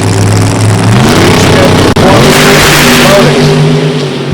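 Top Sportsman drag race cars launch hard off the line at a drag strip, loud engines roaring and revving continuously as they accelerate away, with a PA announcer's voice faintly under the noise.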